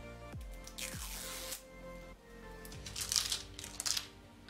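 Small Yves Rocher liquid balm package, shade 07, being opened by hand: a run of close crinkling, squishy plastic handling noises and light clicks, with a few sharper crackles toward the end, no talking.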